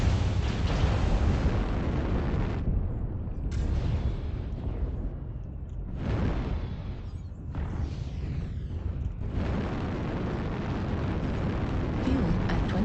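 Heavy artillery strike explosions in MechWarrior Online roar as a continuous loud barrage of booming blasts, with brief dips between waves of rumbling detonations.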